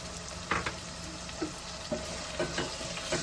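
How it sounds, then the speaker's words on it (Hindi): Tomatoes and green chillies fry in a pan with a steady hiss, broken by several short stirring scrapes spaced across the few seconds, close and moderately loud with no talk. "हरी मिर्चों को भी हम इसके साथ थोड़ा सा भून देंगे।"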